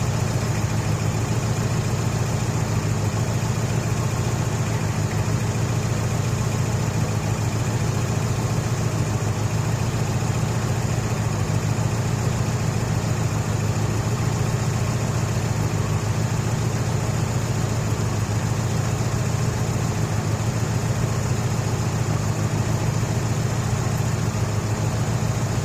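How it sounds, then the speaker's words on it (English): A 2004 Subaru Impreza engine with a suspected head gasket fault idling steadily, a constant low hum and hiss held for the whole stretch with no talk. "This is just from the engine."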